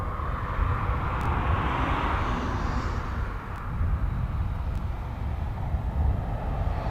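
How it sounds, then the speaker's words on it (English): An aircraft landing at East Midlands Airport, a broad, steady engine roar heard from a distance that holds at an even level throughout with no voices. "I'm not sure what that was that landed then"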